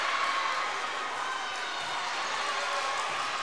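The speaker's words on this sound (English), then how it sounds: "So the crowd's starting to get involved here" Crowd noise at a girls' high school basketball game between Summit and Independence in a gym, a steady broadband roar of voices and cheering that holds at an even level with no distinct peaks.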